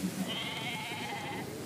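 Goats on a farm, a single drawn-out bleat rising and wavering for just over a second, fairly quiet against soft outdoor background noise.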